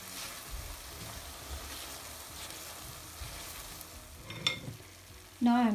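Green onions sizzle and crackle in hot oil in a pan with garlic, a steady close frying hiss stirred now and then, ending with a brief loud clatter.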